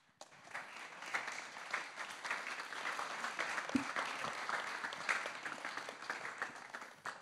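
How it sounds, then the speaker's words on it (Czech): Steady applause from an audience after a presentation on Prague's city ring road, sustained and even for about seven seconds, with many hands clapping at moderate distance. "Bylo za co tleskat."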